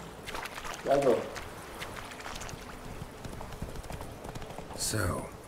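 Horse hooves clip-clop in The Witcher 3 as the horse comes when called, a steady trotting rhythm under ongoing game sounds, with a couple of louder bursts and no speech over it.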